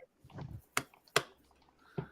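Hands clapping down on knees: three sharp, close slaps spaced out over about two seconds, with a soft rustle before the first and no talking.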